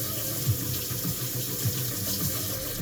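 Water runs steadily from a kitchen tap as hands are rinsed, a continuous moderate splashing gush with faint periodic low thumps, no voices.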